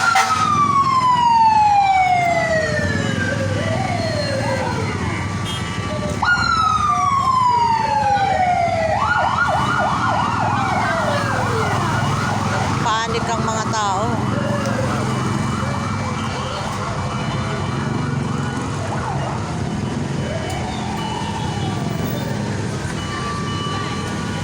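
Loud wailing fire truck sirens responding to a hospital fire in Mandaluyong sweep up and down repeatedly, with a rapid yelping stretch, over road traffic noise and excited voices speaking Filipino.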